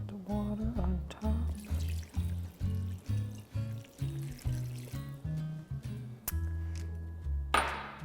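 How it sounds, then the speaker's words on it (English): Water pours into a blender over pineapple, banana, spinach and cinnamon, giving a gurgling, glugging series of uneven pulses with light clinks, close and fairly quiet. "put the water on top."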